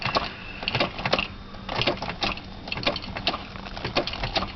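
A cold engine cranks over without starting, a rapid, uneven chatter of starter pulses that runs on steadily and never catches.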